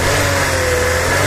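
A car's engine revs at a used-car market in Sumqayit, a loud, steady mid-pitched roar held close for a brief moment.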